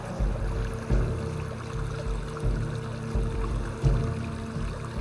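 A gentle current of water trickles on steadily in the background, faint and unbroken, with a few dull low pulses. There is no talking.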